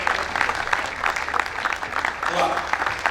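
Audience applause at a company success summit, somewhat quieter and patchier, with a voice speaking over the crowd's clapping.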